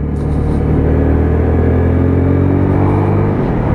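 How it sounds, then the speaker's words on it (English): A UM Freedom 125cc custom motorcycle engine hums steadily while riding, a loud, continuous low rumble with a smooth drone and no talk over it. "the motor on this sounds lovely"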